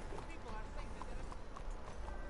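A horse gallops in the video game Red Dead Redemption 2, its quick, rhythmic hoofbeats running steadily under game noise while voices talk over them.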